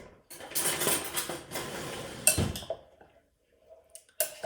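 A spoon scrapes and clinks around a bowl stirring salad dressing for a black bean and asparagus salad, a few seconds of close clattering stirring followed by quieter scattered taps.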